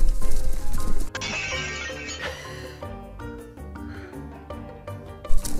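A horse near a snow-parked car makes sounds mixed with music-like tones and other noise, loud and close, no speech present.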